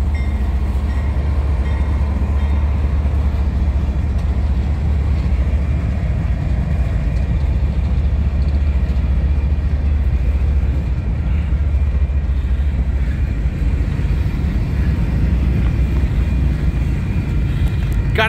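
Union Pacific freight train led by locomotive #6996 with Union Pacific 8267, rolling past near a rail bridge, a steady loud rumble and wheel roar lasting throughout with no break.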